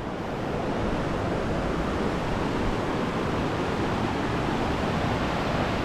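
A flooded river rushes past in a constant broadband roar, loud and steady throughout with no breaks or voices.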